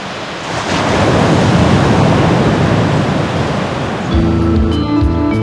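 Ocean surf at Pangandaran beach in Indonesia rolls in as a steady, loud wash of breaking waves, with a brief layer of soft music joining near the end.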